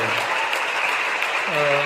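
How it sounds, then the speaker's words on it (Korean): Brief audience applause at a Seoul youth council session on jobs, a steady wash of clapping that continues throughout, with a voice entering near the end. "박수를 한 번씩 치셔야 됩니다."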